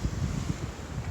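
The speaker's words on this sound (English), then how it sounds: "Today is like really windy day and let's see if the chickens will go out." Strong wind blows outdoors by a chicken coop, a low, blustery rush buffeting the microphone in uneven gusts.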